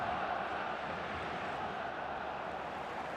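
Stadium crowd noise from the football video game eFootball, with FC Barcelona in La Liga: a steady, distant, washed-out roar of a large matchday crowd, low and unbroken throughout, with no distinct voices standing out.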